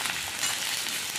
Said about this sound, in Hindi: तो कुंदरू को देखिए हमने कढ़ाई में ऐड कर दिया है।